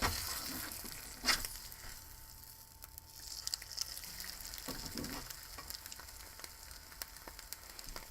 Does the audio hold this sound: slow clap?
no